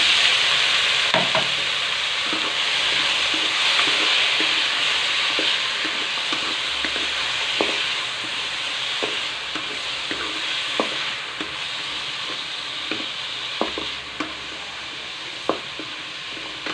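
Chayote stir-fried in a hot pan, a steady loud sizzle with scattered scrapes and taps from stirring, no voices.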